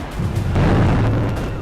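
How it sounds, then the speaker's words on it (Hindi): A car bomb blast near the Red Fort in Delhi, caught on CCTV, comes through as a loud, sustained low rumbling boom that swells and lingers for over a second. "चंद सेकंड में जोरदार धमाका हुआ और उसकी गूंज काफी दूर तक सुनाई दी"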